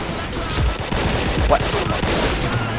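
Rapid bursts of gunfire in the video game Point Blank, loud and continuous with booming low thuds, mixed with excited voices talking over it.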